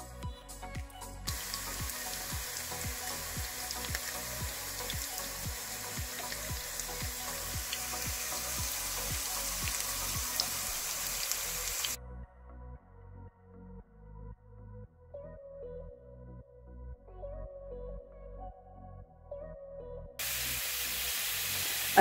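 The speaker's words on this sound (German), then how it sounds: "erhitzen wir nun einen Esslöffel Butterschmalz und zwei Esslöffel Rapsöl in einer Pfanne und werden darin unsere Kartoffeln richtig schön anbraten" A steady loud sizzle of potatoes frying in clarified butter and rapeseed oil in a pan, with rhythmic scraping or stirring, then a sudden muffled stretch before the sizzle returns.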